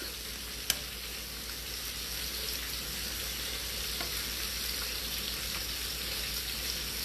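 Shrimp frying in a pan for sriracha shrimp noodles, a steady close sizzle throughout with a sharp clink near the start and faint scraping stirs.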